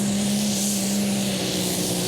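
Turbocharged engine of the Bad Boys Stormy pulling tractor from Finland, a standard-tractor-style machine at a European tractor pulling championship in Brande, Denmark, roaring loud and steady with a sustained droning tone throughout.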